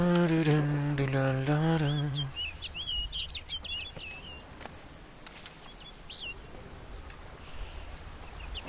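Video game birds chirp in quick, light bursts in the distance, behind a voice at the start that is heard briefly and then falls silent over a faint outdoor ambience.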